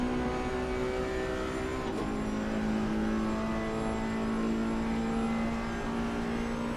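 A Ferrari GT3 race car in a racing video game screams along the Monza straight, a loud, sustained high-revving engine drone with one brief gear-change dip.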